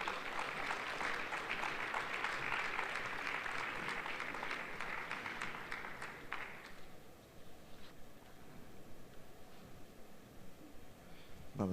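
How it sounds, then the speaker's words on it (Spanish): Audience applause for the panelists at a business panel of Mexican and German executives, a dense patter of clapping that holds strong for several seconds and then thins out to scattered claps and room noise. "ese fuerte aplauso para nuestros panelistas"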